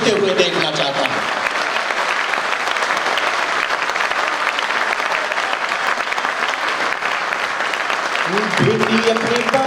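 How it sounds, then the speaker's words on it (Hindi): Thunderous, unbroken clapping from a packed hall at a Hindi poetry performance by a poet, with a voice briefly audible at the opening and again as the applause carries on toward the end. "मैं देर तक इस हॉल को तालियों से गूंजते हुए देखना चाहता हूं।"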